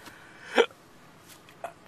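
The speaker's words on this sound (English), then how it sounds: "I got the hiccups." A person's hiccup rings out once, close and fairly loud, followed by a second, fainter hiccup about a second later against a quiet background.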